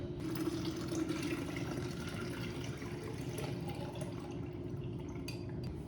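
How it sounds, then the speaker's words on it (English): Spider cider infusion is poured through a strainer, giving a steady close trickle and splash of liquid that runs continuously with no voices. "okay, so first up we're gonna start by straining it after the hour"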